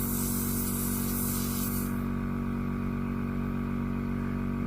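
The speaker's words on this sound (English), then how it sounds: "I'm going to spray it into paper towel" Steady airbrush hiss sprays continuously into a paper towel over a low motor hum, with the bright airy spray cutting off about halfway through.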